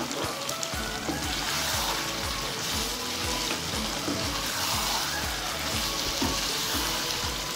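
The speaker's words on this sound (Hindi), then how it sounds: "अब इसमें मैं प्याज डाल दूंगी, जो प्याज मैंने दरदरा करके रखा था वो डाल दिया मैंने" Coarsely chopped onions fry in hot oil with yogurt in a pan for chicken korma, giving a continuous close sizzle and crackle with faint stirring scrapes and no voices.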